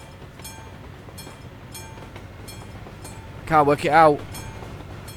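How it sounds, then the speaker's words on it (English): A train passing a level crossing in Euro Truck Simulator 2, with a steady rumbling rail roll and a regular rhythmic clatter of wheels on rail joints, at moderate distance, while someone talks briefly midway. "Come on, train. Where are you? Here it comes."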